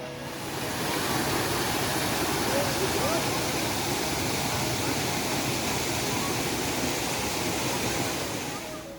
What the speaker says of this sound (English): The Dhangikushum waterfall looks stunning during this time of the year, with water cascading down the rocks